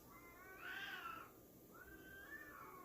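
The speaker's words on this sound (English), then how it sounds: "Did you hear that? Do you hear the cats?" Cats fighting outside at night, faint distant yowling with two drawn-out rising and falling cries, heard from indoors, no talking.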